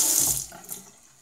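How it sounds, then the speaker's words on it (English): Water runs steadily from a bathroom tap into a sink for wetting the face before a shave, loud and close at first, then easing off and fading over about a second, with no talking. "We'll get some water on the face."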